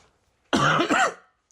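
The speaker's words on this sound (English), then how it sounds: "I don't even know if I'm gonna edit out this coughing." One short, loud cough close to the mic, a single harsh burst with a quick second push, surrounded by near silence.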